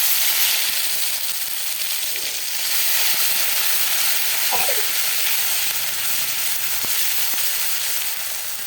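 Whole cumin and garam masala fry in hot oil in a wok, a loud, steady close-up sizzle and hiss with a few faint clinks and no talking.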